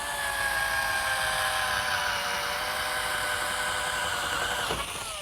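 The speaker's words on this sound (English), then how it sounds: "So I'm going to drill a hole first." A drill bores a hole through a wooden top panel, giving a steady high whine that holds at one pitch for about five seconds, then quickly spins down.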